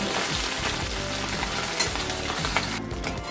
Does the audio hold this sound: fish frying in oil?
yes